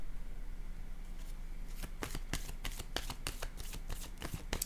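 Playing cards being shuffled and dealt, a quick run of crisp, closely spaced riffling snaps that starts after a quiet moment and continues steadily at close range, with no voices.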